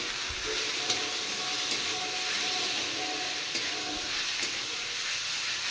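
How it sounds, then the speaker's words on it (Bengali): Chopped chicken pieces fry with onions and a little salt in a pan, filling the space with a steady, close sizzling hiss and occasional soft pops, without talk. "শুধু পেঁয়াজ দিয়ে চিকেনটা ফ্রাই করব"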